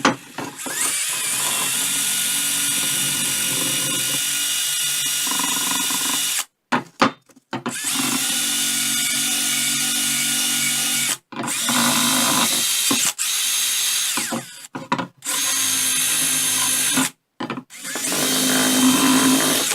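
Wire wheel on a drill scrubbing rust off an old metal garden sign, a loud continuous whir broken by several short pauses as the tool stops and restarts.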